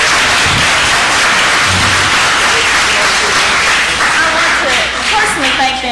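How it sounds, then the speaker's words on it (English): An audience at a city council meeting gives a sustained round of applause that holds at an even level throughout, with a voice speaking over it toward the end. "let's give them a great round of applause"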